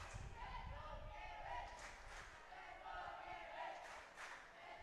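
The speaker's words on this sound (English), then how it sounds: "I think that is the local school cheering on New Zealand" Schoolchildren cheer for New Zealand at a Sultan of Johor Cup field hockey match against Pakistan, a steady distant crowd roar with rising shouts heard beneath a commentator's voice.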